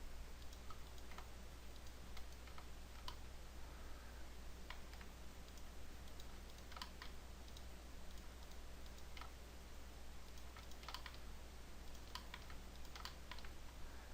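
Rapid computer mouse clicks while shift-dragging in 3D modeling software, quiet irregular sharp ticks scattered over a low steady hum, no talk.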